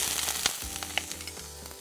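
Butter sizzles and fries in an overheated pan during stovetop cooking, a steady broad hiss with a few sharp pops and utensil clicks, close and loud, with no talking.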